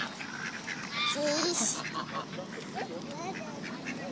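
Ducks quack and honk around a group feeding them bread outdoors, a few short calls scattered over steady background noise while people talk and cheer.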